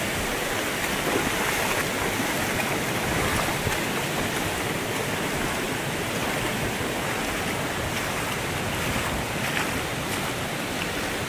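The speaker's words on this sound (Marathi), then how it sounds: "मित्रांनो हे वाहतं पाणी पूर्ण नदीला जातं" Water pours steadily from Padale Dam into the river, a continuous broadband rush with no voices, heard close and fairly loud throughout.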